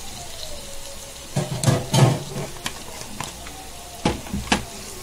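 Masala with coriander and cumin sizzles and fries in a pan, a soft steady crackle with louder bursts of hissing and stirring scrapes, close by and with no talking.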